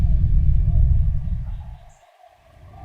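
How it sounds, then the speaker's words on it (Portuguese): A deep, loud ground rumble from the earth swells through the low end, then fades almost to nothing before starting to build again. "a Terra começa a roncar. Rumula mais alto do que um trovão ou qualquer outra coisa imaginável"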